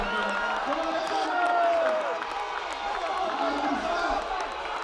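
A rugby crowd at a community match between Saldanha Bay RFC and Mamre RFC cheers as the team runs onto the field, a broad roar of voices and whoops with a commentator talking over it.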